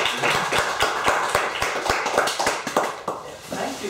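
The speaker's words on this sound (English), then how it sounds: "let's give a clap to Anders." An audience at a talk claps in a fairly thin, uneven patter of hands, with individual sharp claps standing out close by, continuing steadily throughout without talking.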